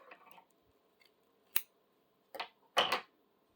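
Scissors snip through crochet yarn on a puff stitch granny square, a few quiet close clicks and one sharper double cut near the end, with no voices.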